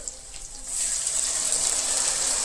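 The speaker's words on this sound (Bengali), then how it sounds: "এখন আমি পানি দিয়ে দিব।" Water poured into a pan of frying dried fish curry, a sharp hissing splash that starts quiet and swells into a loud, steady rush with no talk.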